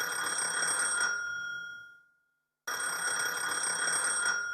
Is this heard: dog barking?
no